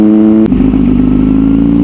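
A Kawasaki Z900 superbike riding along a road, its engine loud and close with a steady mid-pitched drone, a brief sharp click or shift near the start, then a continuous throaty hum as the bike cruises.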